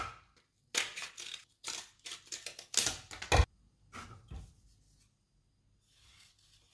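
Scissors snipping through flattened cardboard toilet paper rolls, a series of short crunching cuts in uneven bursts, close and fairly loud, with quiet gaps between and no talk.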